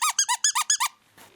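A squeaker inside a hedgehog plush dog toy gives seven quick, loud squeaks in an even rhythm, then stops, leaving faint rustling handling noise.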